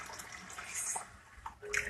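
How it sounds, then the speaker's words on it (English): Water is poured into a pot on the stove for a homemade sinus brew, giving a short, splashing trickle with a few small bright splashes. "First, let me add some more water."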